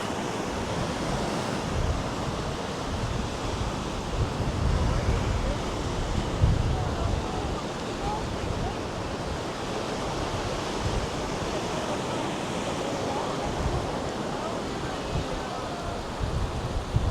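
Sea surf meeting a strong current at a river mouth on the Latvian coast near Užava, a continuous broadband wash of breaking waves with wind buffeting the microphone, steady and fairly loud throughout.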